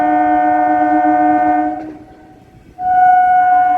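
A loud local passenger train horn blares in a sustained tone, breaks off briefly, then sounds again, close and dominant.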